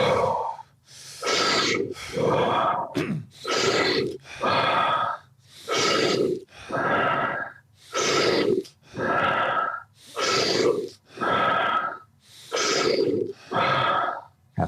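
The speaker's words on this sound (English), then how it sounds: "now we're going right back to 20 big breaths" Deep breathing exercise with big breaths in and out, a long regular series of strong audible inhales and exhales, close and loud, each cycle about a second and a half with brief pauses between.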